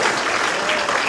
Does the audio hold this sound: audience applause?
yes